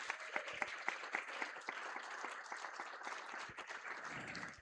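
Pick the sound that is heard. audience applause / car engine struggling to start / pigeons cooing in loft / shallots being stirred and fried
audience applause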